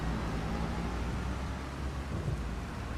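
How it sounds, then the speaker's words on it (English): A tractor engine in Farming Simulator 25 rumbles as a steady, loud low drone that holds without a break and has no talk over it. "I just heard a tractor."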